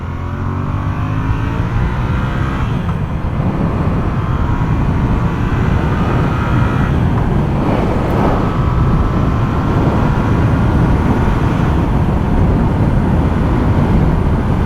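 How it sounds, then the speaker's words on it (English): A 2019 Yamaha XSR 700 motorcycle ridden at high speed on a road in Spain, with a constant loud rush of wind over the engine's sustained drone, heard close from the rider's position without pause. "So we'll check it out at higher speeds now, but as I said, you have a lot of wind in your face naturally."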